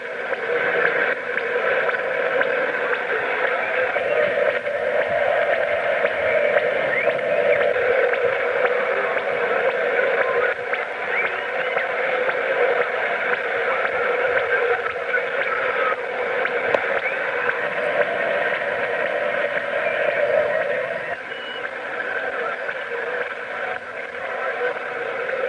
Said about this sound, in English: There's that radar noise, that sweeping noise.